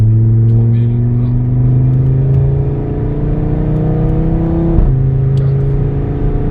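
A 2016 Audi RS3 with 367 hp climbs steadily through the revs, its engine note rising in pitch under a continuous loud drone, with a brief dip near the end as the gear changes.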